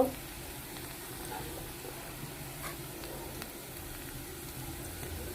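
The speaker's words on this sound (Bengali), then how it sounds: "এখন আমি আমার শাক সিদ্ধ করাগুলোকে আমি ঢেলে দেব" Boiled greens hiss into frying onions in a pan, a soft, steady sizzle that settles into a continuous low crackle throughout, with no talking.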